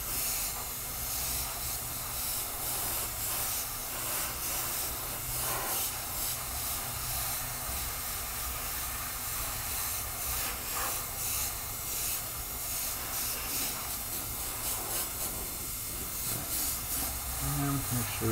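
An airbrush sprays paint over a stencil, giving a steady, continuous hiss that runs through the whole stretch with only slight variation in level.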